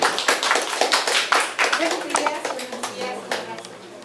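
A crowd at a civic commemoration in Manabí applauds a family representative being honored, scattered uneven claps that fade gradually while voices talk over them.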